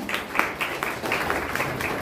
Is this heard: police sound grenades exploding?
no